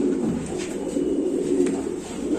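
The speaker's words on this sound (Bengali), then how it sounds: "ব্যালেন্স কবুতরের আছে আমি আর একটা কবুতর দেখাই দিয়েছি" Several racing pigeons in a loft coo softly and steadily, a continuous low, throaty murmur of overlapping calls with no talking.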